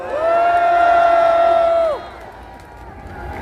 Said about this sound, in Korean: 강동원 청년 연사에게 큰 박수 부탁드립니다.